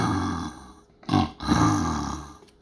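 A person imitates a lion's roar by voicing through a paper towel roll, producing two short, hollow, resonant growling bursts close to the listener amid a faint background hum.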